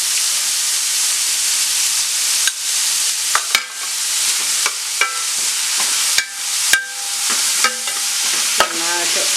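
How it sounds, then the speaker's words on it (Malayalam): Sliced onions fry and sizzle in oil while a spatula stirs them, sharp metallic scrapes and clanks recurring over a steady hiss, as the masala base for a Malabar mutton curry browns. "ഏകദേശം ബ്രൗൺ കളർ നിറമാകുന്നത് വരെ ഇളക്കി കൊടുക്കാം."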